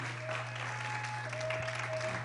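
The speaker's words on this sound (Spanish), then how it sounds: "dale un fuerte aplauso a esas mujeres idóneas en esta mañana" A church congregation applauds the women during a Spanish-language sermon, dense clapping over a steady low hum and a faint sustained tone.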